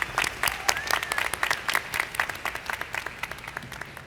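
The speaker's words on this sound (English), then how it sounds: "Please give them a round of applause." A university commencement ceremony audience claps steadily, a dense wash of applause from a large crowd that gradually thins and fades toward the end, with a voice briefly heard over it.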